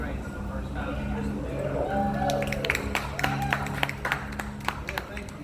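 A live audience at a small San Antonio music event claps, a scattered burst of applause building under a speaking voice and then thinning out.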